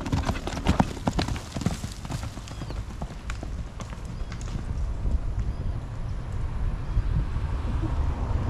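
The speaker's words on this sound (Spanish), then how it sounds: "Mire, donde quiera hay caballo acá." Horse hooves clip-clop on hard ground in a dense, uneven patter, close and fairly loud at first and then blending into a busier rumble, with faint voices in the background.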